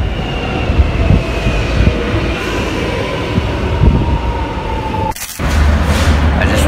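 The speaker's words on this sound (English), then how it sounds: "Train." A train rolls past at close range with a loud, continuous rumble and a high metallic wheel whine, briefly interrupted by a short dropout before the roar resumes.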